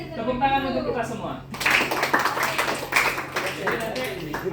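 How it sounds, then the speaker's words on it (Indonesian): Classroom group clapping in an Indonesian school career-guidance lesson, a dense burst of many hands that starts abruptly and carries on steadily, following a teacher's voice at the start. "tepuk tangan untuk kita semua"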